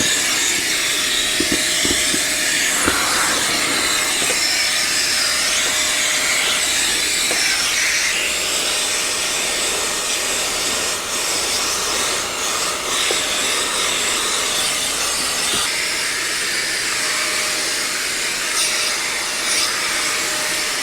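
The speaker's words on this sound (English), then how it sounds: "So just after about 5 minutes of use, we were able to do a lot of vacuuming" An Intercleaner vacuum cleaner runs loud and continuous, its steady whooshing suction roar shifting slightly in pitch as it sucks up wood chips, with no talking.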